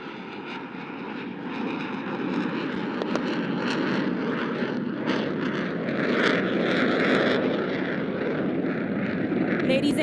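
JF-17 Thunder fighter jets fly past at the Pakistan Day Parade on 23 March 2024, their roar swelling and holding loud and continuous while an announcer's voice runs beneath the engine noise.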